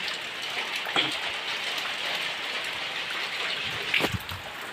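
Steady rain falls outdoors as a dense, continuous hiss, with a couple of sharper drops or knocks standing out near the start and toward the end.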